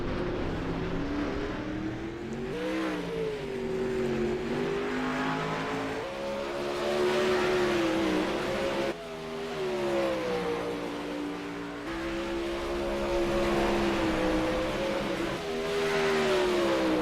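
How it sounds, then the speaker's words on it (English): Race cars rolling out onto the track at Lanier, engines droning and shifting pitch continuously as they pass and rev, loud and steady with overlapping engine notes throughout. "So we got another set of cars rolling out."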